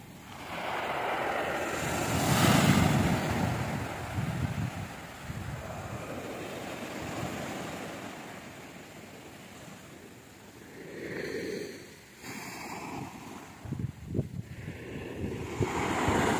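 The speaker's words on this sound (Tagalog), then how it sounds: "biglang humangin, umikot itong alon." Sea waves wash and surge on a windswept shore while gusts buffet the microphone, a steady roaring rush that swells and eases over time, with no talk.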